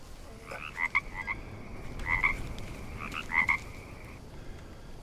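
Frogs croak in the jungle of the survival game Green Hell, three spaced bursts of rapid, chirpy calls over a soft ambient bed, fairly close and distinct.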